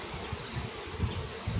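Honeybees at a hive, a steady, dense buzz of many insects heard close with faint rustling, with no talk.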